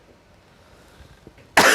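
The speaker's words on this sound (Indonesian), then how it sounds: "Itu batuk." A single sharp cough bursts out loudly near the end after near silence.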